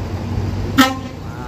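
A Borlindo bus bound for Toraja gives one short horn toot as it pulls out of the Daya bus terminal, heard over a constant low engine rumble in the yard.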